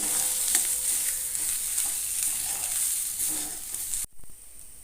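Pointed gourd stir-frying in mustard oil, a steady close sizzle with soft scraping strokes as it is stirred continuously, ending abruptly in near silence.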